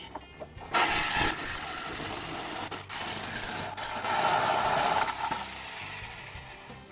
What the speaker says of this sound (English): Mr. Sawzall, do your thing.